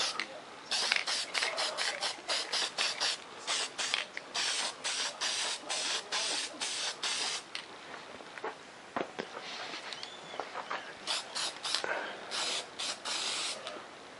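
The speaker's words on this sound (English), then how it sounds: "I'm just going to shoot a coat on the top here." An aerosol can hisses in rapid short bursts while a coat of spray paint goes onto black foam board, close and fairly loud, with a brief pause midway before the quick sprays resume.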